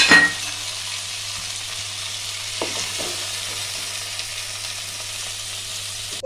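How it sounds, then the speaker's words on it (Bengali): Vegetables for Bengali sukto fry in a pan with a steady, close sizzle that runs the whole time, broken by a few soft clinks of a spatula against the pan partway through. "সবজিগুলোকে আমি খুব ভালো করে ভেজে নিয়েছি"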